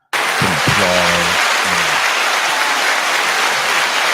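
Sustained crowd applause breaks out abruptly and holds steady at full loudness to the end, with a few spoken words heard over its opening second.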